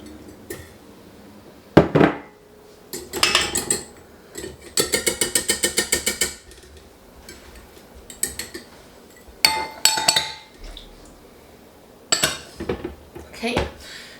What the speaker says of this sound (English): So begin by adding all your ingredients to the bowl of a stand mixer.